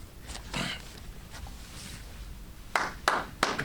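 A press conference audience gives a few scattered, faint claps at a distance, with sparse single claps followed by a short cluster of sharper ones near the end.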